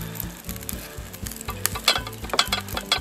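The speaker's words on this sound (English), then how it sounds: "We just spread it on there." Knife smearing fiery mustard onto a hot dog at a barbecue, close wet scraping and dabbing strokes over a steady sizzling background with no talking.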